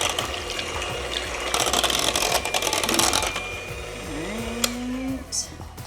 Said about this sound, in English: We just want to blend a little bit more to make sure there's 0 clumps.